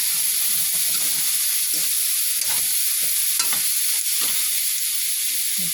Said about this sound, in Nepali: आदा लसुन जिरा मसला सबै यहीँ हालेको